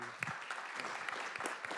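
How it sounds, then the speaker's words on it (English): An audience at a special discussion event with a film director claps in a dense, steady patter of applause that stays even and fairly loud throughout. "Let's give a round of applause"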